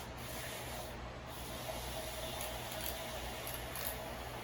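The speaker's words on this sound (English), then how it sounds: "And I'm gonna just froth using my froth whisk" Whole milk is frothed with a small froth whisk for a matcha latte, a faint, steady buzzing whir with soft rubbing texture and no talking.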